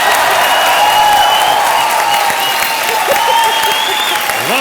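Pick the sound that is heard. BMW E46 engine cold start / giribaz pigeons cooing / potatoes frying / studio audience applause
studio audience applause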